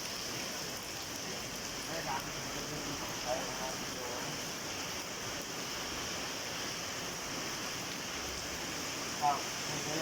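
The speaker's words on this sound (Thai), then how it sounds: "ฝนตกไม่หยุดเลยครับพี่น้อง" Steady rain falls continuously, a soft hissing patter with an occasional louder drop, no voices.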